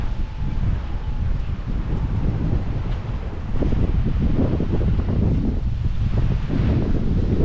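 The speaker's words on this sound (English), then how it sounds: "Probably is a little bit windy." Wind blowing outdoors in San Antonio rumbles hard against an unshielded camera microphone, a constant, loud, close buffeting with faint rustling underneath and no talking.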